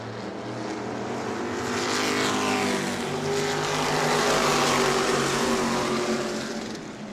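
E-Mod race cars roar through a heat race at New Smyrna, a loud, continuous engine drone that swells as several cars run close together and then eases slightly.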